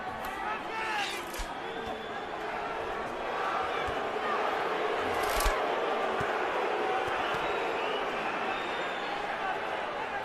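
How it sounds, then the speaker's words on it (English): Arena crowd murmuring and stirring throughout a Pacquiao versus Marquez boxing match, a steady wide roar of voices with a few sharper shouts rising out of the babble. "Crowd wants more action to go with all that intensity."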